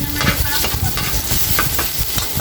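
Garlic sautéing in hot oil in a wok-style pan, a loud dense sizzle broken by repeated scraping stirs, close up and with no talk.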